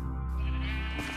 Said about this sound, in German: Gibt mir jetzt noch ein orangenes Schaf.